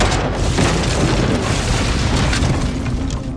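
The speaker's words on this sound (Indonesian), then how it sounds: "pondok sudah meledak" A hut bursts apart in a film scene, giving a loud, dense, rumbling explosion roar that fills the whole stretch at a steady high level, alone without speech.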